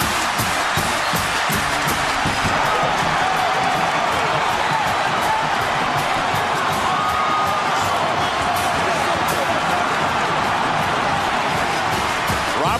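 A huge Virginia Tech stadium crowd roars after a 98-yard kickoff return touchdown in a 2009 Alabama versus Virginia Tech college football game, the cheering dense, loud and sustained with a commentator's voice over it.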